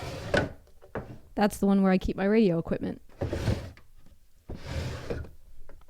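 An old metal desk drawer is pulled open with a short scraping, squealing slide and a thunk, set between stretches of a woman's nearby speech in a quiet office.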